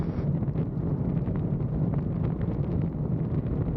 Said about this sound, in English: It is very, very windy today.